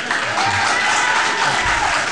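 Audience applause in the gallery of an El Paso city council meeting, a steady, dense wash of clapping that fills the room for the whole stretch, fairly loud, without a clear pause.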